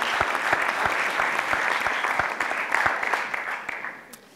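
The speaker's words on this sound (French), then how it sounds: "applaudissez-les s'il vous plaît." Dense applause from the audience at the Inria awards ceremony, a full crowd clapping steadily for several seconds before tapering off at the end.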